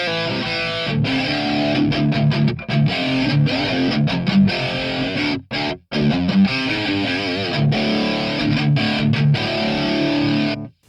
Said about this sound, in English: Another presets, mad rotary vibrato.